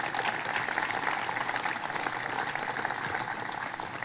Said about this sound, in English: Give him a round of applause for his great work.